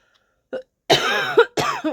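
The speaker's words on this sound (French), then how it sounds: "pardon pour la toux" A short, harsh cough-like burst followed by a rough throat sound, close and fairly loud in a quiet room.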